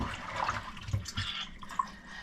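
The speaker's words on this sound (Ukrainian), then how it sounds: "отак віджимаємо, щоб витекла водичка" Water runs and drips off a batch of freshly squeezed roach fish in a home kitchen, a soft irregular trickle with a few small splashes close by, no talk.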